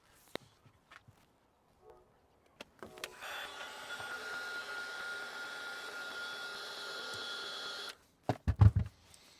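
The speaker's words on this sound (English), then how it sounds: "I'm just going to heat up the lens from the bottom and then just start picking away" A heat gun warms an iPhone 14 Pro camera lens: a steady, close blowing hiss runs for about five seconds, then cuts off, with a few small clicks and taps before and after.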